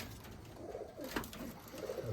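Domestic pigeons cooing softly in a fancy-pigeon loft, a few low, gentle coos rising over faint background noise, quiet and fairly distant, no talking.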